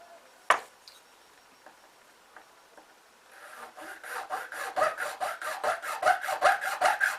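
A Bachmann model diesel refuelling point has notches cut into it by hand, first a sharp knock and a few faint scrapes, then a rapid, rhythmic rasping of small filing or sawing strokes up close.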